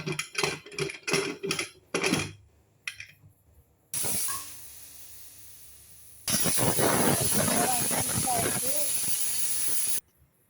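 A locked pressure cooker cooking rice with salt and turmeric hisses steam in long loud bursts, near and continuous, after some earlier clattering and clicks.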